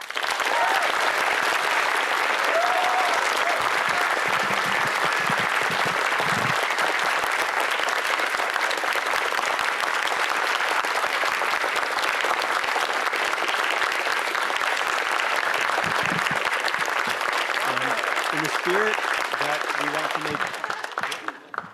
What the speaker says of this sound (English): Please join me in giving everyone up here, and people who couldn't escape their seats,